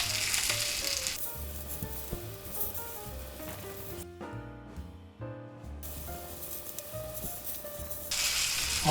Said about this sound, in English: This is where you gotta take your time and do a good searing.